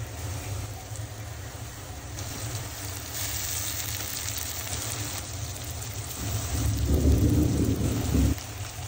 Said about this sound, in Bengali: সেই বৃষ্টি নামছে, সেই বৃষ্টি হচ্ছে